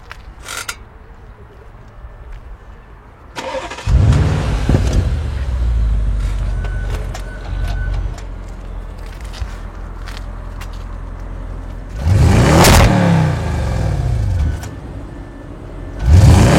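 Audi RS6 ABT wagon tuned to 700 hp cranking to life with a sharp bark, then a loud, rumbling idle broken by a second hard rev blip near the end, with creaks and clicks around it.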